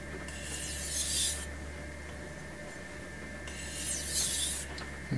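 A knife edge is drawn across a Suehiro Debado whetstone with eased-up pressure: two long, hissing rasping strokes separated by a pause, close and fairly quiet over a steady low hum.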